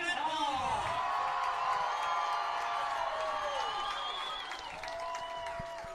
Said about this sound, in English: Crowd all fired up.